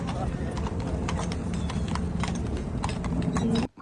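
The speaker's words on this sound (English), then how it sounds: "you've also got to watch out for the horse and carts" A horse-drawn carriage clip-clops along a New York City street near Central Park, hooves striking pavement in a steady, close rhythm amid city background noise, with voices talking underneath.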